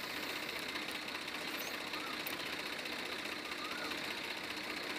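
A tractor engine runs steadily at close range, a continuous dense mechanical drone with no pauses or changes in pace across the whole stretch.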